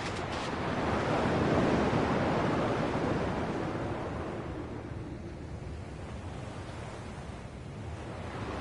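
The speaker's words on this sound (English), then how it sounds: "At least the waves sound the same." Ocean waves in the video game Kingdom Hearts 2 wash in as a steady, broad surf roar that swells and slowly eases off, heard alone and fairly loud throughout.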